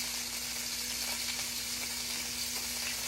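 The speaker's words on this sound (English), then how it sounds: "Let it stir fry too." Onion and summer squash stir frying in a pan, a steady soft sizzle and crackle heard close up with a low constant hum beneath and no talking.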